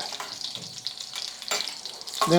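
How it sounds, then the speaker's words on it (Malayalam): Steady sizzling and crackle of cashews and raisins frying in a pan over a medium flame for ada pradhaman, with a brief clatter of stirring near the end. "കാഷ്നട്ടും കിസ്മിസും കൂടെ ഒന്ന് വറുത്തെടുക്കുക"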